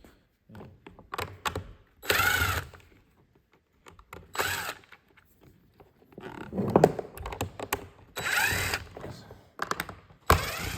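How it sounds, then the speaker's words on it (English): Screws being backed out of a Bissell vacuum housing with a power driver, short whirring bursts repeating irregularly between pauses, with clicks and knocks of plastic handling close by. "let's just start taking out screws"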